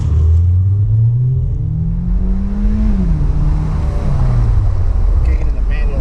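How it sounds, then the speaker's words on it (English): A Mazda Miata engine drones as the car drives a mountain road in manual mode with paddle shifters, its tone climbing slowly, easing, then dropping with a shift, loud and close throughout. "Kick it into manual mode and we'll drive with some paddle shifters"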